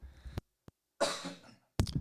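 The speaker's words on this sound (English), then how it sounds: "Sorry, I had to cough" A man coughs several times in quick, sharp bursts close to the microphone, separated by brief silences, with a longer rasping cough in the middle; no talk.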